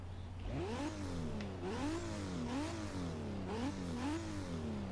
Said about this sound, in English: So let's listen to that 2JZ.